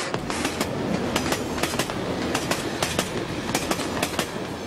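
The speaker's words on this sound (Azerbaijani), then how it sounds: "Hazırda biz Bakı, Ağstafa-Qazax qatarının qarşısındayıq." The Baku–Agstafa–Qazakh passenger train at a railway station, close by, with a steady rumble and repeated sharp metallic clicks and clacks of wheels and couplings sounding in a loose rhythm.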